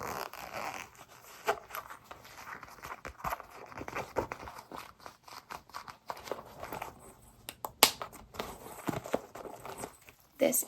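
A zipper inside a crossbody bag being worked in short repeated pulls, soft close-up rasps and fabric rustles in an irregular rhythm, with quiet speech in the background.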